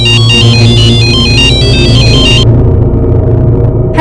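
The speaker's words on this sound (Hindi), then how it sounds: "फोन बज रहा है" A phone rings with a bright electronic ringtone in a dramatized crime story scene, repeating its melodic pattern loudly for a few seconds before cutting off, over a steady background music bed.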